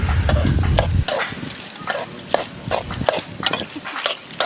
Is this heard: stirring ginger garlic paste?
yes